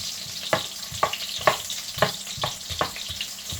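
Onions sauté in a hot pan with a soft, steady sizzle, while the utensil stirs with regular sharp clinks about every half second.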